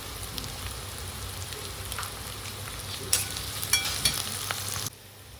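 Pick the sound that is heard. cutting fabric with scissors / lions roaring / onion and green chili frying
onion and green chili frying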